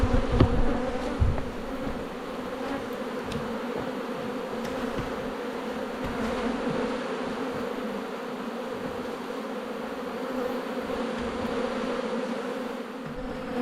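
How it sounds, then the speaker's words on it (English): Honeybees droning steadily around a hive being packed up for a move, a constant mid-pitched buzz with a few faint clicks and knocks near the start, under rainy outdoor conditions. "that'll keep the bees in the hive"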